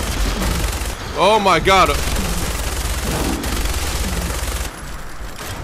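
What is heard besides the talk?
gunfire in the video game Fallout 4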